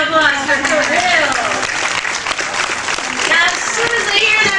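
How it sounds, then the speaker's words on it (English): A crowd applauds steadily throughout, a dense wash of clapping with cheering voices mixed in. "Big round of applause for Toril."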